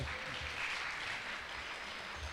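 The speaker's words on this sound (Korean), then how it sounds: "박수로 맞이해 주세요." A crowd of about three thousand at a Seoul citizens' assembly applauds continuously, a dense wash of many hands clapping at steady volume throughout.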